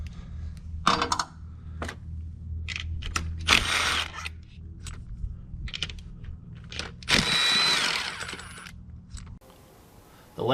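A power tool backs a bracket off a 4.2-liter Yamaha outboard motor in short whirring bursts, with clicks and metallic clinks between them and a longer, louder run near the end, close by and with no talking.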